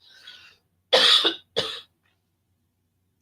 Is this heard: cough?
yes